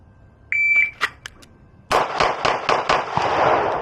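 At an outdoor target range, a sharp electronic timer beep starts the string, followed after a pause by a rapid series of about five to six loud, close pistol shots from a Beretta APX or Glock 19.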